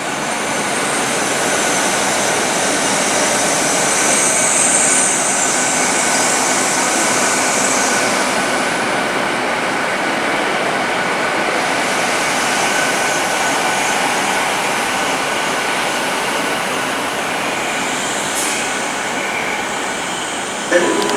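A Class 43 HST train passes through Reading station with a loud, steady broadband rumble and rushing sound that holds for the full stretch, with faint high squeals along the way.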